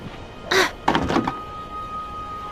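A rusty doorknob on a locked door in a point-and-click adventure game, rattled twice in quick succession: a short clunk, then a longer jiggling rattle, crisp and close, followed by quiet.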